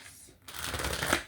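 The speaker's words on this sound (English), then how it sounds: "One more shuffle for Taurus." Tarot cards riffle and slide through a deck in a quick close shuffle, starting after a brief quiet moment and building to a crisp, papery flurry.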